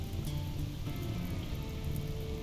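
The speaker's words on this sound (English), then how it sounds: "It's raining." Rain in the colony game RimWorld falls as a steady, dense hiss with soft low rumble, even and continuous throughout with no other sounds standing out.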